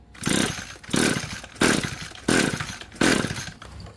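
Echo SRM-2320T string trimmer being pull-started, five sharp recoil cord pulls evenly spaced about every seven tenths of a second, each a rising rasp that fades, close and alone with no engine catching.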